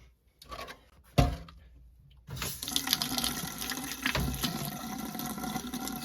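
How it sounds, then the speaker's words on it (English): Hot water runs from a sink tap in a steady, close stream after a few brief clunks, filling the space with continuous splashing. "Hot water going."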